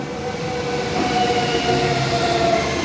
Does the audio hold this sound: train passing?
yes